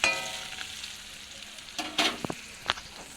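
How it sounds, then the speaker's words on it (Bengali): Onions frying in a pan for a chicken curry, a soft sizzle under scattered scraping and stirring clicks, with a few sharper utensil knocks near the end. "এই যে পেঁয়াজটা এখনও ভাজছি, পেঁয়াজটা একটু লাল লাল করে ভেজে নেবো"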